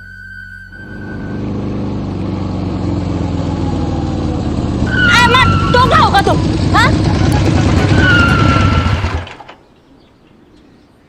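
A motorbike engine runs steadily under nearby talk, a continuous low drone with a slight rise in the middle, then cuts off abruptly near the end, leaving quiet.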